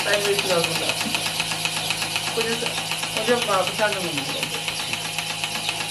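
A milking machine for a single cow runs with a loud, continuous, rhythmically pulsing mechanical hum, while people talk over it.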